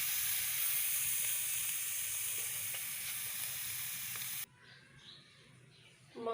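Grated carrots for carrot halwa being re-fried in a pan give a loud, continuous hissing sizzle with faint stirring scrapes, cutting off abruptly near the end to leave near silence and a brief closing clatter.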